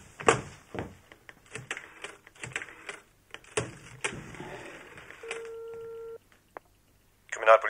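A telephone being dialed in a German radio crime drama, heard as a quick series of clicks and clacks followed by a steady dial tone and further short tones, fairly close and clear, with brief pauses between sounds.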